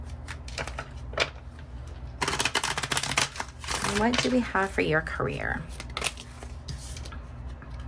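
Tarot cards are shuffled by hand with rapid riffling and flicking, in bursts that rise and fall. Someone talks before and around the shuffling, which is close and fairly loud.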